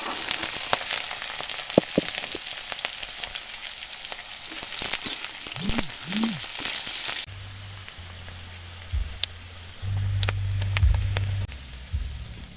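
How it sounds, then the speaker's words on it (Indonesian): Jengkol beans fry in hot oil with a crackling sizzle that is loud at first and then settles into a quieter bubbling, with scattered pops and a low rumble later on. "Minyaknya sudah panas bro, langsung masukin jengkolnya."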